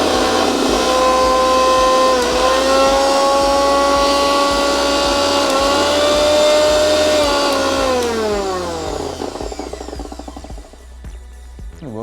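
An INALSA Aarin 1000 mixer grinder runs loud and steady with a whining motor tone that steps up through its speed settings, then winds down and spins to a stop near the end.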